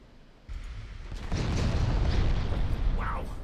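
Naval gunfire and shell impacts in the warship battle game Ultimate Admiral Dreadnoughts, a sudden deep boom swelling into a rumbling roar with a faint whistling streak near the end.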